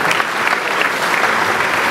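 Audience at a live comedy show claps loudly and continuously, a dense even wash of applause throughout.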